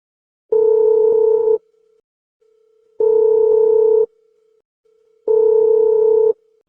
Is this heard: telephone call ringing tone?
yes